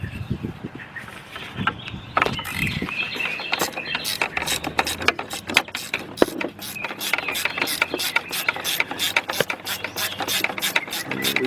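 Ratchet with an extension clicking steadily while loosening the starter on a BMW 745i, a close, rapid run of sharp metallic pawl ticks that starts about two seconds in and keeps a fast even rhythm to the end, with no talk over it.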